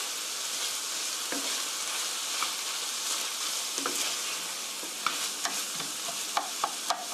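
Potatoes and carrots stir-fry in a pan for curry, a loud continuous sizzle throughout, broken by soft scrapes and a few sharp clicks of the spatula toward the end.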